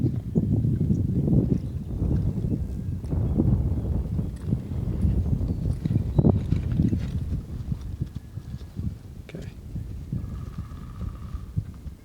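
Soft, rhythmic clopping of a young horse's hooves walking on ground toward a bridge obstacle, fairly close, with a dull low rumble throughout.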